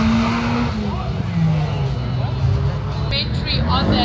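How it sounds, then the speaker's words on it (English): Mercedes A45 AMG race car on a hill climb track, loud engine revving and shifting with some tire squeal, heard under continuous commentary. "A45 AMG is the next car on the track."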